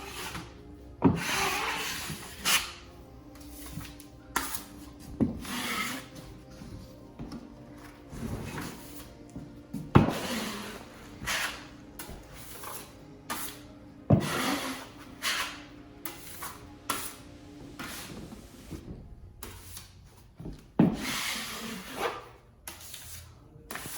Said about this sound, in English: I'm consistently taking the mud off of the 14-inch, putting it on the 6-inch, and then going from the 6-inch back to the 14-inch